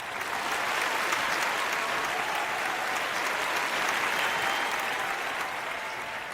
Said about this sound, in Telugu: కాబట్టి ఆద్య మాథుర్కి కూడా క్లాప్స్ కొట్టండి